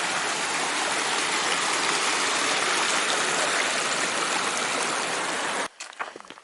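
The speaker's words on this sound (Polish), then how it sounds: "Teraz do przejścia mam strumień" A small mountain stream flowing over rocks on a hiking trail, a steady, close broadband rush of water that cuts off abruptly near the end, leaving quieter rustling.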